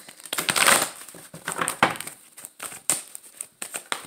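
Rustling, crinkly tarot card shuffling up close, irregular scrapes and flicks with a few sharper snaps, no talking.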